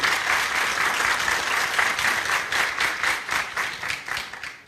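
Delegates at a health workers' union general assembly in Adana applaud their deputy chairman, dense crowd clapping that stays loud and even, then tapers off at the close.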